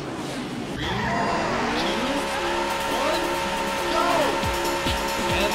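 Race cars roar and tires screech in the Daytona USA arcade racing game on PlayStation 3: loud, continuous engine drones with rising and falling pitch sweeps as several cars accelerate, layered with tire squeal.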